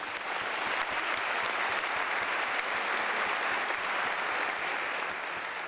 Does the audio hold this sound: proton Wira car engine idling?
no